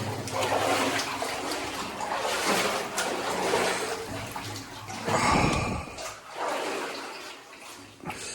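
Feet wading through water inside an old flooded woodland mine: continuous close sloshing and splashing, with a heavier surge of churning water partway through, echoing faintly.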